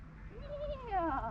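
A human voice imitates a horse neigh with a brief, wavering whinny that rises and then falls, close but quiet.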